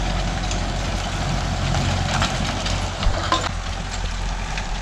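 Mahindra Yuvo Tech Plus 585 4WD tractor working a rotavator in a coconut grove, a steady loud diesel drone with low rumble throughout and a brief clank near the end.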